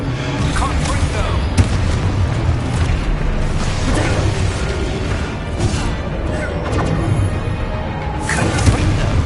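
Confringo blasting-spell explosions in Hogwarts Legacy, repeated booming blasts and crashes over a dense, rumbling combat din, loud and close, with a couple of sharper bursts standing out.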